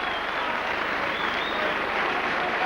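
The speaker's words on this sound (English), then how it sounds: "They applaud the crowd" Rugby league players at a St Helens versus Doncaster cup match applaud the crowd, heard as a steady, moderately distant wash of stadium clapping and crowd noise for a few seconds.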